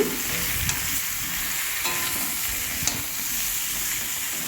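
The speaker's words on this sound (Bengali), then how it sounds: "দিয়ে সবজিটাকে নেড়ে নিচ্ছি" Mixed vegetables with turmeric fry and get stirred in a pan, a steady dense sizzle with occasional scraping clicks of the spatula, close and continuous without talk.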